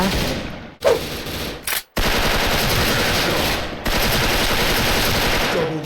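An M4A1 rifle fires in the Special Force game in loud, sustained automatic bursts that are broken by two short gaps and then run on steadily and close.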